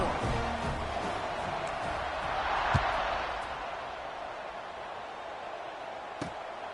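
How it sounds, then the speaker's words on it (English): Football stadium crowd at a Washington vs Washington State game, a steady broad roar and murmur of thousands of fans after a touchdown, filling the space continuously with a swell midway and a couple of sharp thumps. "this crowd is buzzing after that last score."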